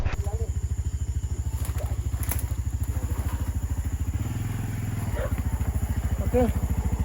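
A motorcycle engine putters steadily up close with a low, rhythmic throb that briefly deepens midway.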